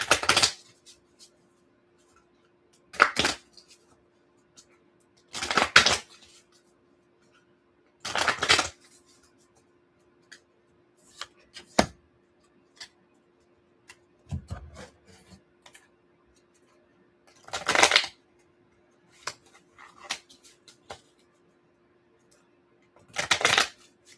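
Oracle cards split into piles and shuffled by hand, heard as several short, crisp riffling and rubbing bursts separated by quiet gaps, close and fairly loud.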